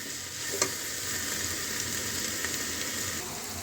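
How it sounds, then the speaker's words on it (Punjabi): Radish and potato curry frying in oil in a pan, being stirred: a steady close sizzle with a few brief scraping stir sounds, no talking. "ਅਸੀਂ ਇਹਨੂੰ ਹਜੇ ਵੀ ਥੋੜੀ ਜਿਹੀ ਭੁੰਨਾਂਗੇ ਤਾਂ ਜੋ ਬਹੁਤ ਵਧੀਆ ਹੋ ਸਕੇ"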